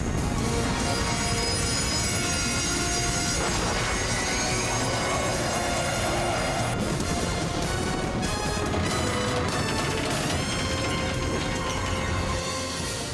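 Continuous loud rumbling and clattering of a runaway train on the rails, with metallic screeches and squeals layered over the dense mechanical roar.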